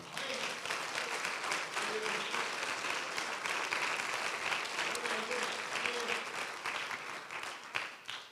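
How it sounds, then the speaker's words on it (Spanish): Steady applause from a large church congregation fills the whole stretch, a dense continuous patter of clapping that holds at an even level throughout. "Denle ese aplauso al Señor."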